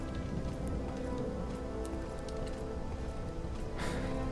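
Rain falls steadily on a surface in a video game, a dense continuous patter with occasional sharper drops.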